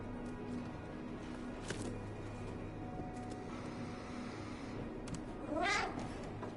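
A cat meows in the Stray video game, a short rising cry near the end over quiet game ambience and low background hum.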